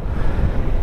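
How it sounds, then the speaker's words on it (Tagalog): Steady wind buffeting the microphone on a mountain road trip in the Cordillera between Claveria and Tabuk, a loud, continuous low rumble with no voices. "Ay, sarap na hangin."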